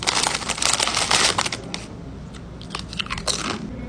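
Potato chips from a school cheeseburger lunch are crunched up close. Loud, dense crunches come first, then fade into quieter, sparser chewing crackles, with no talking.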